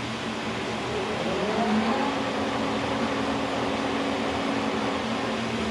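A K&T milling machine runs steadily under power at high speed, giving a continuous loud mechanical whir and hum with faint rising tones early on and no talking.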